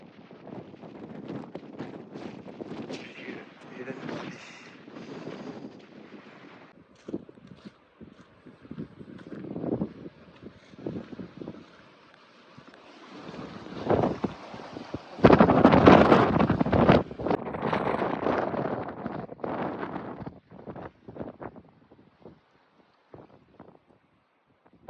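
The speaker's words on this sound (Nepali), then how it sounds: "यति सारा हावा के धकल्दिने" Strong wind buffeting the microphone at Elan Valley reservoirs, loud rumbling gusts that rise and fall, surging hardest midway, with no clear talk.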